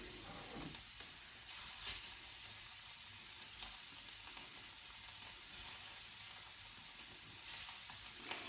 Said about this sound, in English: And these are thin strips, so they are gonna cook up pretty quickly.